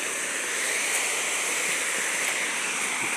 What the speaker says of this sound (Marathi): आणि हा आहे ओढा